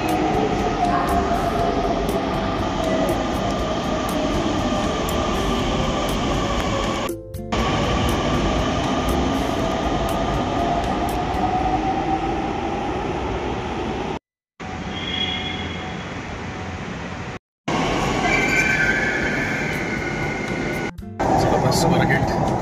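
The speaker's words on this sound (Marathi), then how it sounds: "आणि ही आहे कासारवाडी मेट्रो." A Pune Metro train rumbles through Kasarwadi station with a steady loud roar and a rising whine, cut by a few abrupt gaps of silence, while a voice talks over it.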